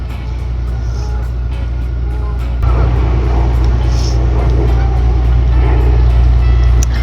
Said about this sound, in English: This is a cute little bus. So apparently it goes on land and in the water.